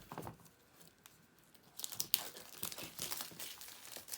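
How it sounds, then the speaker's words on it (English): Close, quiet crinkling and ripping of plastic packaging in irregular bursts, with a sharper tear midway, opening the box of an Apple Magic Mouse 2. "now we're able to rip into the plastic"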